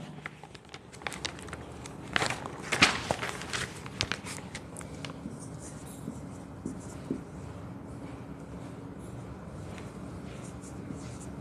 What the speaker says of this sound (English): Let me write down.